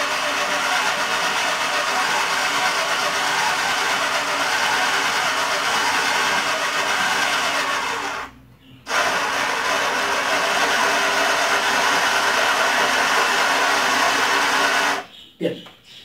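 Small electric motor driving a plywood model elevator up and down, a steady whirring drone that stops briefly midway and again near the end, with a voice talking over it.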